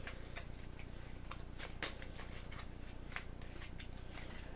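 Cards are quietly shuffled during a game of Aeon's End Legacy, a faint run of soft riffling flicks with a couple of sharper snaps.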